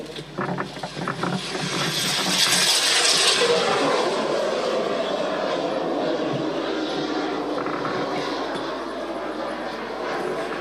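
A model aircraft engine passes low along the main flightline at the Popham model show, a loud buzzing drone that swells and then holds steady, mixed with broad outdoor wind and crowd noise.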